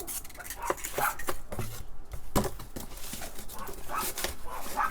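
A dog barks several times at a distance, irregular yaps over a muffled background with faint movement noises.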